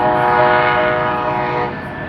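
Freight trains climbing the grade at Cajon Pass rumble loudly nearby, with a sustained horn blast sounding over the steady rolling roar before it eases slightly.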